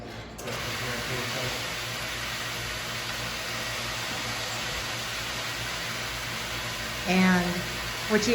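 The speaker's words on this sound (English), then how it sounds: "that noise you hear is the pump running" A steady mechanical hum and hiss of a pump motor drones throughout, with a brief burst of a voice near the end.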